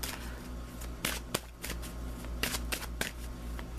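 Tarot cards are shuffled briskly for a guidance card pull, crisp riffling bursts and slaps close and fairly loud, repeating in an uneven rhythm with no speech.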